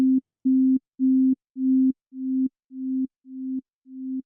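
A steady synth tone in Ableton Live repeats eight times as its attack is raised; the early notes start abruptly, while later ones swell in gradually with a soft, slow fade-in.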